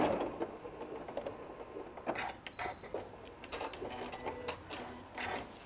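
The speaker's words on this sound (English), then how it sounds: "And do a tacking stitch at the end." A sewing machine stitches a short tacking stitch at the end of a seam on a St Patrick's Day table runner, making quick, close mechanical whirring and ticking bursts with small pauses, no talk.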